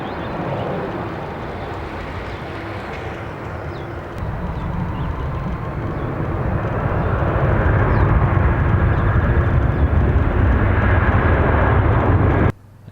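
A real airliner's jet engines roar in a broad, rushing drone that swells from moderate to loud and holds steady before cutting off abruptly at the end.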